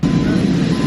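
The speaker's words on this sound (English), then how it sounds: "they already got planes making noise and stuff" Steady, loud engine drone from aircraft at an air show, a continuous low roar with no break over the short span.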